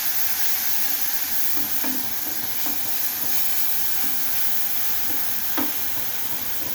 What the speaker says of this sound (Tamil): இப்போ நம்ம இந்த அரைச்சிட்டு வந்த மசாலா பச்சை வாசனை போகிற அளவுக்கு நம்ம வதக்கிக்கலாம்.